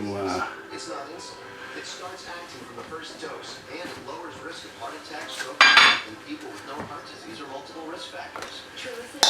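Utensil scraping and clinking against a bowl while stirring a homemade pasta dough mixture, a steady busy clatter with one louder scrape near the end, under soft background voices.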